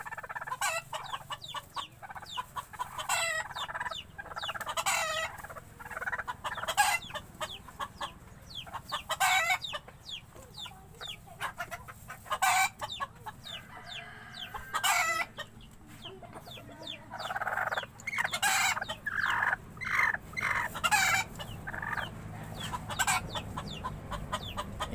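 A bantam hen clucks repeatedly while settling onto a clutch of eggs to brood, giving soft, close, irregular clucks and low murmurs throughout, with no talking.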